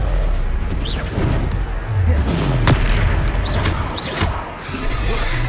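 A Stupefy spell blast booms during a duel in Hogwarts Legacy, heavy impacts and bursts layered with swooshing magic effects and a voice shouting amid the fight.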